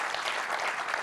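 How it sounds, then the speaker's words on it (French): A brief burst of dense audience applause at a regional green-savings presentation in Hauts-de-France, steady and evenly textured with no talking over it. "On peut applaudir Camille Duzanier"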